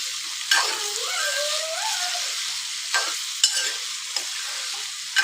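Tomatoes and cauliflower sizzle steadily in a pan while a spoon stirs them, with a few sharp scrapes and taps against the pan over the constant hiss.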